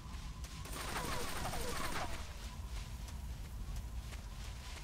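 Gunfire in Metal Gear Solid 3: Snake Eater during a boss battle, rapid bursts of shots rattling over a rumbling game soundscape, moderately loud and sustained, with a brief sharper flurry near the start.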